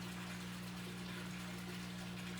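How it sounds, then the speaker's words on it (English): Water poured slowly into the soil of a potted houseplant makes a soft, continuous trickling gush over a low steady hum, fairly quiet and without speech. "Let's give these friends some life-giving water."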